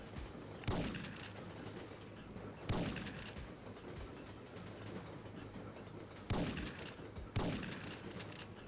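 Shotgun fire in the PlayStation game Syphon Filter 2: four sharp blasts at irregular intervals over a constant low rumble of game ambience, fairly quiet overall.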